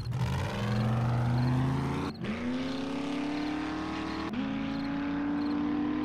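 A car drives in the video game 7 Days to Die, its engine holding a steady loud drone that climbs in pitch through two gear shifts with short breaks.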